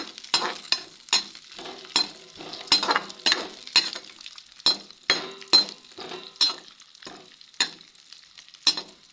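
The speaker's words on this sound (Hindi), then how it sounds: "तो इस बचे हुए घी में डालूंगी अब किशमिश को। तो इनको भी भून लेते हैं जब तक ये फूल ना जाए।" Raisins frying in leftover ghee in a pan, with steady sizzling under repeated close stirring strokes and clinks of a spoon against the metal, no talking.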